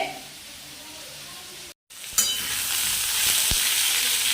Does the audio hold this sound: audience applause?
no